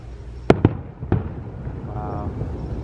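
Big Disney Magic Kingdom fireworks test bursts heard at a distance from the Polynesian Resort, three sharp booms within a second followed by lingering rumble, with people talking excitedly around them.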